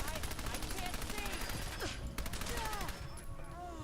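Dense gunfire and grenade blasts rattle continuously through a Fallout 4 firefight, a busy wall of rapid shots and bursts with a voice talking over the top.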